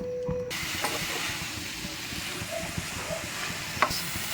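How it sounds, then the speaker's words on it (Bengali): Coriander leaves are stirred in a dry pan to cook off excess water, giving a soft steady hiss and light sizzle. Faint scraping touches come through close by, with no talking. "এই শুকনো কড়াইয়ের মধ্যেই আমি এই ধনেপাতাগুলোকে দিয়ে হালকা নাড়াচাড়া করে নেবো"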